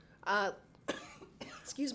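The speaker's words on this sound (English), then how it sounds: "has to clear her throat" A woman clears her throat in a few short, rough bursts between spoken words, close and fairly clear.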